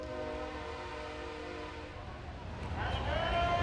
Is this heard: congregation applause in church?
no